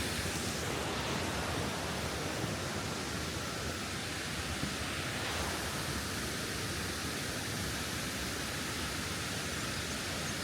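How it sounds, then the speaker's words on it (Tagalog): Waterfall in Sapa, a steady, dense roar of falling water that stays constant and loud throughout, with no voices over it. "Ayun yung waterfalls."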